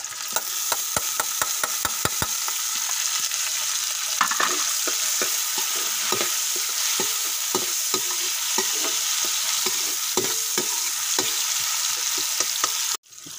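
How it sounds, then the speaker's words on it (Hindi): Browned onions frying with green chillies and tomatoes added for a mutton liver masala, a steady loud sizzle with frequent sharp stirring clatters of a spoon against the pan, close up and without speech. "अब इसमें हम सब्ज़ मिर्च और टमाटर डालेंगे।"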